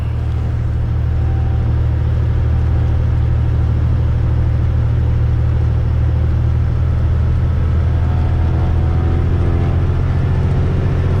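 A light aircraft's piston engine roars steadily and loudly during the takeoff roll down the runway, a constant close droning rumble with no voices and little change in pitch.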